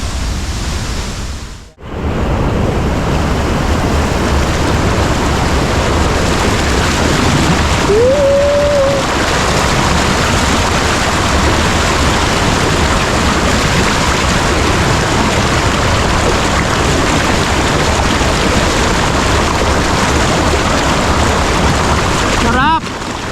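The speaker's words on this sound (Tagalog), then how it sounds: "Tuasan Falls." Tuasan Falls in Northern Mindanao pours with a very strong current, filling the scene with a loud, constant broadband roar of rushing water, briefly interrupted near the start and otherwise unbroken for over twenty seconds.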